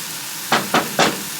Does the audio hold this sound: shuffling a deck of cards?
no